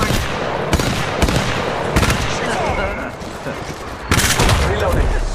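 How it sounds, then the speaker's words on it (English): Gunfire in Apex Legends Mobile: loud bursts of rapid shots that come in clusters with brief pauses, close and punchy over constant game noise, with occasional voice lines mixed in. "Shots fired and they're hitting me."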